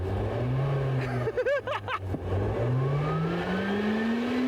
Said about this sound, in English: you can actually rev up the fan when you're stationary